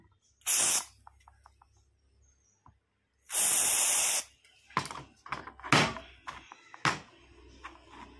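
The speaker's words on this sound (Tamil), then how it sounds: "இந்த ஐபிஏ ஸ்ப்ரேயை வந்து அடிச்சுக்கிடுறேன்" Two sharp bursts of isopropyl alcohol aerosol spray hiss, close by, sprayed onto an old brush, followed by soft clicks and handling noises.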